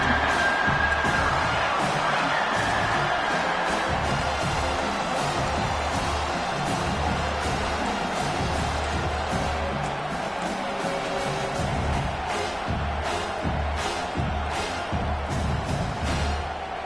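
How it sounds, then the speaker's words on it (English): A stadium crowd in a Madden football video game roars steadily and loudly throughout, a dense wall of cheering with faint voices woven into the din. "Decibels rising as the crowd gets behind this defense on 3rd down."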